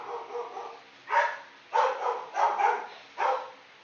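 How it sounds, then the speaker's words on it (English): Dogs barking in a short run of several sharp barks with brief gaps, fairly close and clear, with no talking over them. "And there go the dogs barking."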